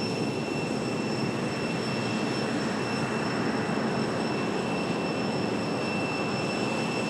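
A Southwest airliner takes off from runway 5 right at Raleigh-Durham International, a steady, dense broadband roar of jet engines held at constant loudness throughout, with faint high tones riding above the rumble.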